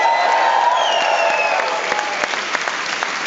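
An audience in a cinema applauds after a screening of The Green Inferno: dense, even clapping from a large crowd that fills the room, then gradually thins into scattered claps.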